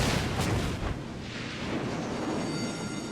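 Secondary guns on a warship in the World of Warships video game fire in a dense salvo, a continuous rumbling barrage of overlapping booms that stays loud for the whole stretch.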